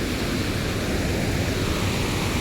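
Floodwater from a swollen river rushes over the Mehar bridge in a steady, loud, broadband roar, close and continuous, with no voices.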